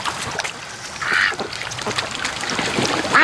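Muscovy ducks, large birds gathered outdoors during a snowstorm, give a few short calls against a steady wash of outdoor noise.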